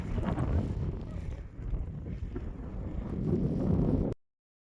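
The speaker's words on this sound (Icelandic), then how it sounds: "Vindur og rigning." Wind buffeting the microphone outdoors in rain by a river gorge in Iceland, a steady rough rumble that swells and eases before cutting off abruptly.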